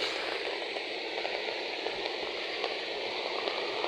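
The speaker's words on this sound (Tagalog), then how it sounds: "Ngayon pa lang naririnig na natin yung agos ng tubig sa busay" Rushing water of a flooded waterfall, a steady broadband roar that holds even and continuous throughout, heard from fairly close with no voices over it.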